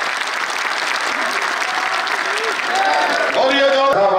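Audience applause at a cow welfare award ceremony in Haryana, a steady loud wash of clapping that swells near the end, with voices and a higher tonal sound cutting through in the last second.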